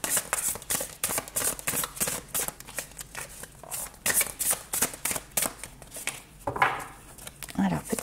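A deck of oracle cards is shuffled by hand in quick repeated riffles and flicks, close and crisp, in a quiet room with no talking.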